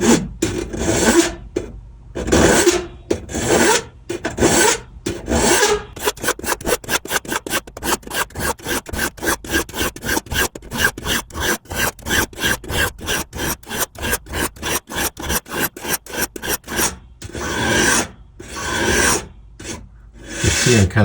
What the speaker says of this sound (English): I'm kind of filing at a really steep angle here.